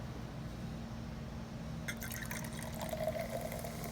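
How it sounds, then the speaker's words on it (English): Liquid pours and trickles against a low steady hum, then a soft crackling fizz of bubbles rises. "You might even be able to hear the fizzing sound."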